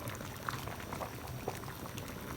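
Strained Jamaican red peas liquid pours into a pot of boiling soup with chicken foot and pig tails, a steady close bubbling and gurgling of liquid with small splashes, no talking.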